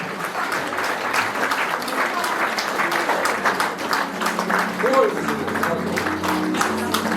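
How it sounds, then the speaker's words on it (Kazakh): Applause from guests at a memorial gathering as family members arrive, sustained clapping from a crowd at steady volume while a voice speaks over it. "Шапалақ ұра беріңіздер деп жатыр."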